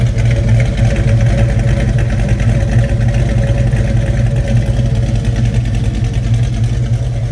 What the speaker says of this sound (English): Hard to beat headers with cherry bombs and a 351 V8.